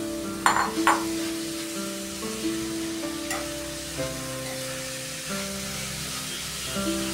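Grated beetroot frying in ghee over a low flame, giving a steady soft sizzle with a few brief stirring scrapes near the start, close and fairly quiet, with no voices.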